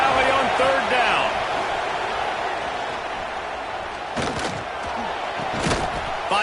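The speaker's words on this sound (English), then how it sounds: "Here comes the noise from this big crowd in Happy Valley on 3rd down." A big football crowd in Happy Valley roars on third down at a Penn State versus West Virginia game: a broad, continuous stadium din with a few sharp swells, while a voice talks over it.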